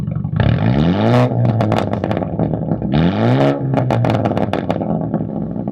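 Sports car with a Sports Plus transmission tune, exhaust recorded up close: two loud revving bursts, each rising in pitch and then dropping off into a crackling, popping overrun, with no talking.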